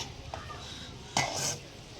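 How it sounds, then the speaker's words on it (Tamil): Ingredients for 5-rupee Maggi noodles being stirred together in a cooking pan, with faint utensil scraping and a short, louder clatter of metal against the pan midway, close by and without talk. "இது ரெண்டுத்தையும் சேர்த்து நல்லா மிக்ஸ் பண்ணிக்கலாங்க"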